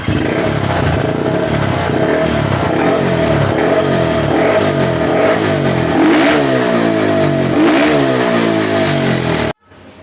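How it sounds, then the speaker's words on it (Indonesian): A motorcycle engine revs up and down repeatedly, loud and close, with a steady throaty rumble between throttle blips, then cuts off abruptly at the end. "Biar tidak penasaran, aku gas-gas ke juga ya motor."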